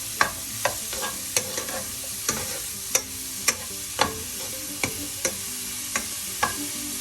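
Metal spoon scrapes and knocks repeatedly against a pan while cauliflower stir fry sizzles steadily underneath, about a dozen sharp, evenly spaced strikes over a constant frying hiss.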